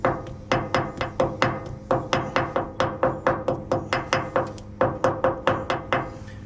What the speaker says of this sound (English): So you take a ball peen hammer and you work it like you're doing, kind of like when you're making a gasket.